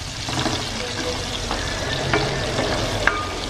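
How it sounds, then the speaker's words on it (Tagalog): Onion and garlic sautéing in a pan with half a beef cube, giving a steady close sizzle broken by a few sharp utensil taps and scrapes. "Isuti lang natin itong ating sibuyas saka yung bawang."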